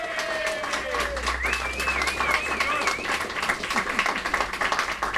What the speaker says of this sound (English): a round of applause for Bill Hartston.